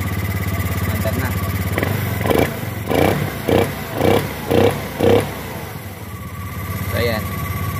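A Honda Beat FI scooter with a fuel-injection code 12 fault runs nearby at a steady idle, blipped with several short rhythmic revs in a row while someone talks over it.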